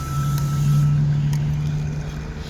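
A bus engine pulling away from a sidewalk stop: a loud, steady low rumble with a droning tone, a faint hiss and clank on top, and no talk.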